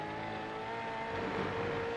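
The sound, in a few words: V8 race cars in a train at Canadian Tire Motorsport Park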